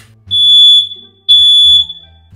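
Two long, loud, piercing electronic beeps from a nearby alarm, each lasting about a second with a short gap between.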